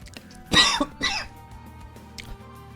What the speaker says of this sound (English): Sorry, sometimes the cough sneaks up on me.